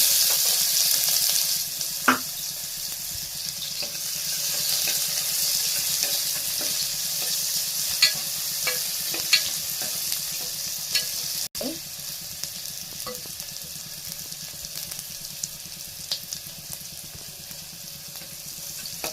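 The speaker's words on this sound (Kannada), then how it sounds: "ಎಣ್ಣೆ ಬಿಸಿಯಾಗಿದೆ ಈರುಳ್ಳಿ ಕಟ್ ಮಾಡ್ಕೊಂಡು ಈರುಳ್ಳಿ ಹಾಕೊಂಡಿದ್ದೀನಿ" Chopped onions fry in hot oil in a home kitchen pan, a loud, continuous close sizzle with occasional clinks and scrapes of a spoon stirring.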